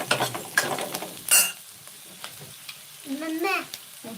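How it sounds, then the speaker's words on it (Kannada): Onions frying in a pan and being stirred, a close crackling sizzle with scraping strokes, broken at one point by a brief voice. "ಕಲರ್ ಬಂದಿದೆ ಇನ್ನು ಸ್ವಲ್ಪ ಫ್ರೈ ಆಗಲಿ"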